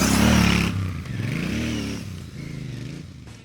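Royal Enfield Bear 650 motorcycle riding through deep sand, its engine loud and close, revving and then falling back and pulling again, with a rough, grinding drone throughout.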